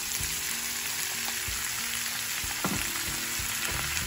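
Steady sizzle of onions or similar frying in a pan for homemade tomato soup, with occasional clinks and scrapes of stirring; close, continuous and moderately loud, with no talking.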